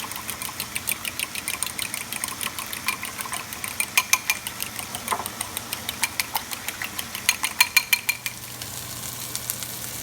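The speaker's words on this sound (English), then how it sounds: "So now I'm just gonna whisk this." Whisk rapidly beating eggs with a little milk in a bowl, a steady series of quick clicking taps, louder and faster in the middle, over a constant background hum.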